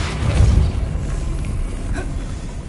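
Casting Depulso in a Hogwarts video game gives a deep boom in the first half-second, then a low rumbling decay and a faint later swish, fairly loud and without talk.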